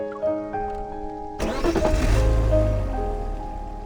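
A car engine restarts on a rainy night: a sharp starter crank, then the motor catches and settles into a low, steady idle close by, with soft music fading out just before.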